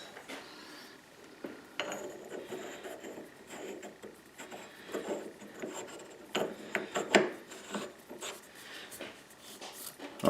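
A nut is threaded onto a metric thread cut on an imperial lathe, giving quiet, close scraping and rasping metal-on-metal friction in uneven strokes that intensify toward the end.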